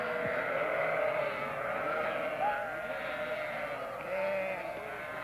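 A flock of sheep arriving at the banks of the Kunduz River in Afghanistan, several animals bleating in overlapping calls over a continuous background murmur.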